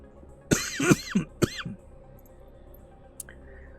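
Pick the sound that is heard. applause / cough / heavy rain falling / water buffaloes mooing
cough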